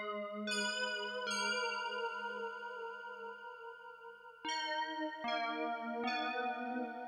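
A pluck key synth patch from Analog Lab plays a few bright, bell-like notes alone, each starting sharply and ringing with a clear harmonic tone and light echo.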